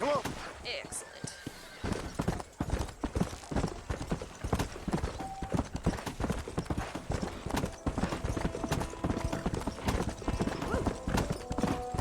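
Rapid hoofbeats clatter steadily as a horse gallops in the video game Red Dead Redemption, loud and close, with a voice briefly whooping over the rhythmic clip-clop.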